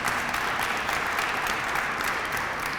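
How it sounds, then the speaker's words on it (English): Audience at a Lead Awareness Week kickoff event in Cleveland applauds steadily, a dense, even round of clapping that carries on throughout with no talking over it. "Let's give them a round of applause if we can this morning."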